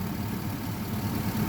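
A GMC Yukon with a 6.0 engine idles steadily up close, a continuous low rumble with a slight uneven throb and no voices.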